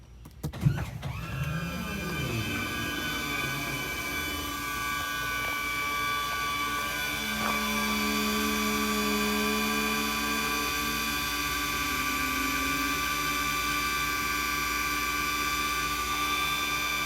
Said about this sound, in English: So now I got to go ahead and retract the hydraulic landing gear.